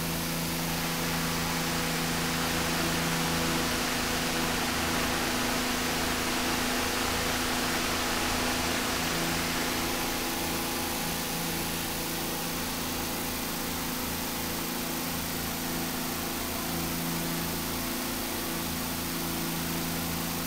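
An 1892 Crocker-Wheeler electric fan runs at doubled speed, around 1800 RPM, giving a loud, steady whooshing roar with an even motor hum beneath, unbroken and without speech.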